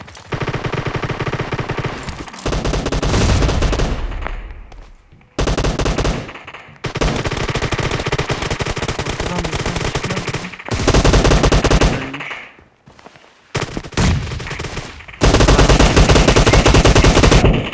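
Groza assault rifle fire in a PUBG Mobile team deathmatch, delivered as loud, dense bursts of rapid automatic shots that run several seconds each and are broken by short gaps, with no talk.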